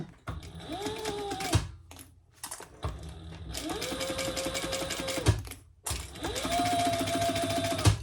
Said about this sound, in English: So we're just going to stitch that.